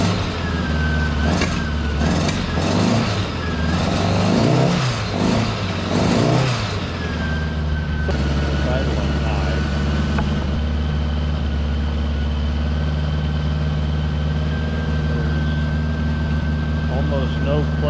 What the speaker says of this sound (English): So it starts immediately.